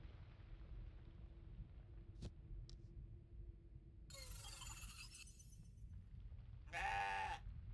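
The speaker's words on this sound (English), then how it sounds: "Playful goat noises." A goat in the video game CrossCode bleats playfully: two short bright bursts, the longer and louder one near the end, over a low steady game hum with a couple of faint clicks earlier.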